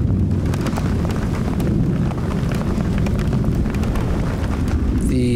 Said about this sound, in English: Then the rain started.